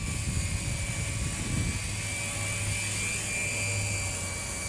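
A Walkera 4F200LM radio-controlled helicopter coming in to land, its rotors and motor giving a steady, loud whine with a constant pitch that holds through the whole stretch, close to the listener.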